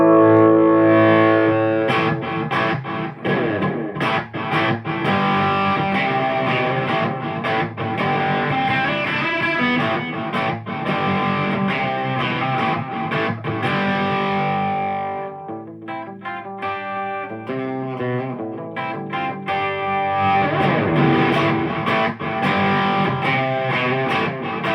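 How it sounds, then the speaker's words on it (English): Electric guitar through a TC Electronic Hall of Fame 2 Mini reverb pedal set for a modulated Echoplex-style delay, playing a loud, continuous distorted riff with repeating echoes trailing each note and a brief thinner passage midway. "So an Echoplex type delay tone out of a reverb pedal."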